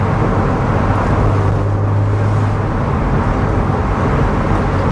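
A Porsche 911 997.2 cabriolet drives along with its roof down, giving a steady low engine drone and broadband road and wind rush that hold constant and close throughout, with no talk.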